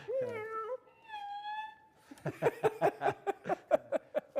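A cello slides through a few meow-like phrases imitating a cat, then plays a quick run of short plucked or bowed notes in a steady rhythm.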